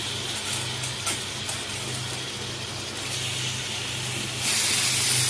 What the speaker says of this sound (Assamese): অলপ ঘি দি লৈছোঁ ঘিৰ লগত অকণমান ৰষ্টেড কৰি ল'ম পনীৰখিনি